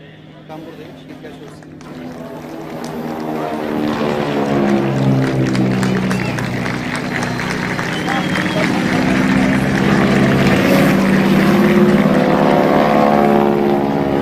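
A propeller airplane flying at 335 km/h approaches and passes at an İzmir liberation day celebration, its droning engine growing steadily louder and staying strong throughout. Someone talks over the drone.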